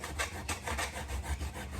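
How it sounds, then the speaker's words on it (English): A hacksaw blade cuts through electric kiln brick in quick, gritty back-and-forth strokes, close and fairly quiet, about eight rasping pulls over two seconds. "That's why I used the hacksaw blade."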